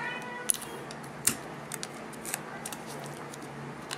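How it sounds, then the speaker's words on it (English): Scissors snip paper while a birthday card is being made, giving a few sharp, close clicks and light crisp cuts spread over a few seconds against a quiet indoor background, with no talking. "every time y'all see me cutting, I got a different pair of scissors"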